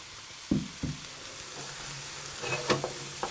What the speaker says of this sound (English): And you can hear, I'm not stir frying massively now.